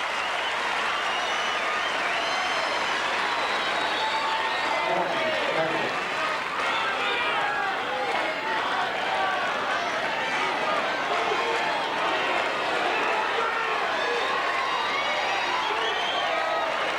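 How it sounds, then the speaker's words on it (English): A tennis crowd at a 2002 Houston semifinal between Agassi and Sampras roars with sustained applause and cheering after a point, a dense, loud wash of clapping and shouts that fills the whole stretch without letting up. "Listen to this crowd."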